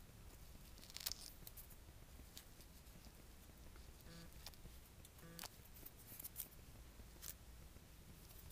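Small scissors snip loose threads off a handmade five-petal ribbon flower, a few faint, sparse cuts at irregular intervals over low background hiss, with no talking.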